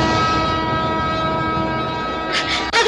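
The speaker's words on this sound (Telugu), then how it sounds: "అదిగో రైలు వస్తుంది." A train pulls in with a steady, loud rumble of rail cars, and a horn-like tone sustains throughout before sharp bursts near the end; no talking is heard.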